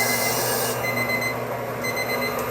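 A timer alarm rings steadily and fairly loud during A5 large clipper blade sharpening work, a continuous electronic tone over a constant machine hum with no talking.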